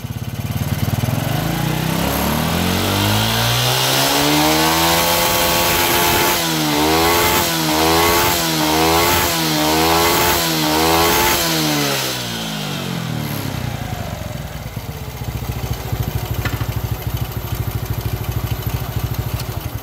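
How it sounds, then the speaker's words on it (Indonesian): A motorcycle engine fitted with a Supra 125 carburetor on a Kaze bike revs loudly and close, climbing through a run of repeated throttle blips before settling back to a steady idle, with no talking over it. "Kita gas pelan dulu, lalu gas panjang."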